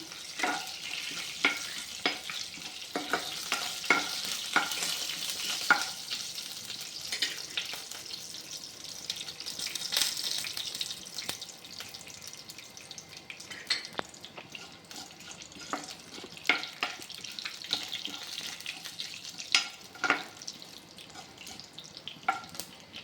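Cumin and fennel seeds spluttering in hot oil, heard as a steady close sizzle scattered with many sharp crackles and pops, and occasional stirring scrapes, with no voices.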